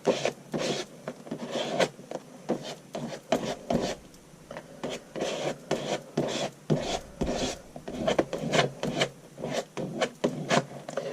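Burnt sienna paint scraped hard across wet gesso on a mixed-media art journal page, heard as a rapid run of close, rasping strokes in an uneven rhythm, with no voices.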